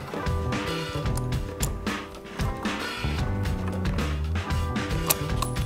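Ratchet driving an 8mm bolt while fitting a front brake kit on a Mega Moto 80 mini bike, with repeated quick clicking strokes in bursts, close and fairly loud, no talking.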